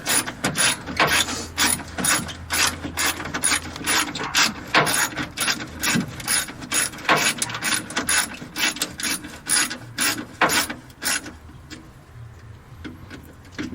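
Rapid ratcheting clicks ring out close and loud as the master cylinder bolts on a 1971 VW Karmann Ghia are wrenched tight, a steady rhythm of ratchet strokes that stops abruptly near the end.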